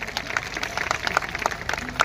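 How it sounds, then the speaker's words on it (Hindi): A crowd at a Vijay Rath event in Kanpur claps steadily, a dense patter of hand claps at moderate loudness filling the short moment without talk. "जोरदार तालियां होना चाहिए इनके लिए"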